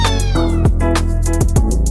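A domestic cat meows loudly and close, several drawn-out tonal calls in quick succession with a slight whiny rise and fall, heard alone.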